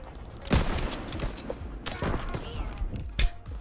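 Gunfire in Call of Duty WWII during online sniper play with Kar98 rifles: scattered shots and bursts of varying loudness, some near and sharp, others distant, over a steady battlefield rumble.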